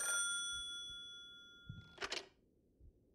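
A rotary phone rings in a video game, a sustained metallic bell tone that fades out, followed by a brief bright ring burst and a soft thud, with no talk.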